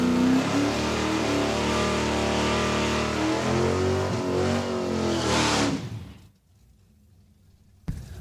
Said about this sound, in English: We've got the Trelevin clan getting the roadster out for a run down the track.